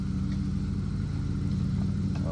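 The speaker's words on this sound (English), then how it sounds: "go ahead and take it for a little test rip around the yard" A Hawk 250 motorcycle, freshly fitted with a new throttle cable and air tires, idles and putters steadily close by, its engine giving a loud, even, low throbbing pulse with no one talking.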